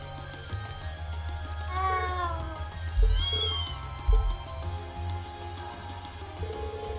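A cat in the video game Trails of Cold Steel gives a few short, rising meows at moderate volume over ambient game music and low thumps.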